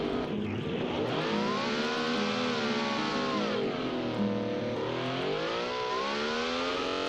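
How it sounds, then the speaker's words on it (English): Race car engine in BeamNG screaming through rapid, closely spaced gear shifts, the pitch sweeping up and dropping several times in quick succession, loud and continuous. "Did that just triple shift the gearbox?"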